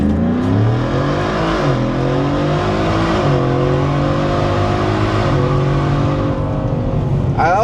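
A Whipple supercharged Ford F150 truck accelerates hard from a stop to about 80 on an empty street, its engine a loud sustained roar with rising pitch that drops at each gear change, heard from inside the cab.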